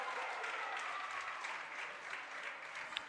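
A crowd at a high school basketball game claps and cheers in a steady, fairly distant wash of applause that holds evenly for a few seconds.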